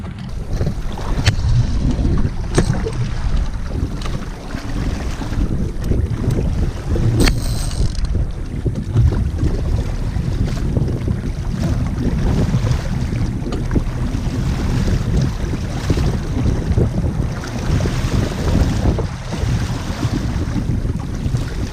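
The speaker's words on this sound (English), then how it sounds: "We are picking up a little wind and we are sailing into this beach here" Steady wind buffets the microphone over the rush of water along a sailing Hobie Cat catamaran's hull, continuous and loud with no talking.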